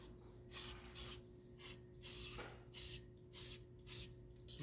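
WD-40 sprayed from an aerosol can onto a motorcycle exhaust pipe: about eight short, sharp hissing bursts in an uneven rhythm, close and clear over quiet background.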